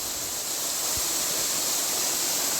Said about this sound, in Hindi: काफ़ी ऊंचाई से पानी गिर रहा है।